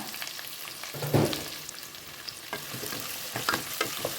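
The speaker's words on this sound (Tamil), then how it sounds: "இது எல்லாத்தையுமே இப்போ ஃப்ரை பண்ணுங்கள்" Green chillies and mint leaves fry with onions for a spicy kurma, a moderate sizzle with a thump and several light stirring scrapes of a spoon against the pan.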